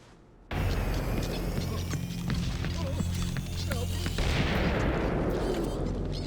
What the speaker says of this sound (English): The explosion was not ship-related.